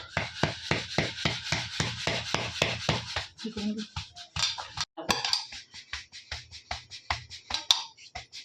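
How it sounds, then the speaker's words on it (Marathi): Mixed-flour bhakri dough patted flat by hand on a board, a fast, even run of close slapping pats that breaks off briefly and then resumes at a slower, lighter pace, with no talking. "हे याच्यावर ठेवून हे पा अशा प्रकारे आपण थापणार आहोत"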